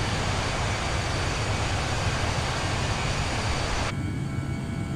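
Airbus A319 on takeoff in Microsoft Flight Simulator on Xbox Series S, a steady broadband jet-engine roar that holds loud and even, then dulls abruptly near the end.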